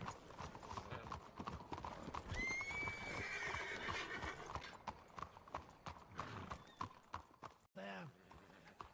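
A horse's hooves clip-clop along a town alley in a steady rhythm, close by, and the horse whinnies loudly near the end; people talk over the hoofbeats.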